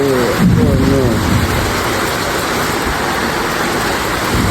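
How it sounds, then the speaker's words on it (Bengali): Rain begins falling in a steady, loud hiss at dawn during a storm, with a continuous broad wash and a faint voice briefly heard early on. "বৃষ্টি পড়া শুরু হয়ে গেছে"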